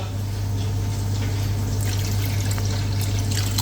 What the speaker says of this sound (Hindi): अब इसमें मैं पानी ऐड करूँगा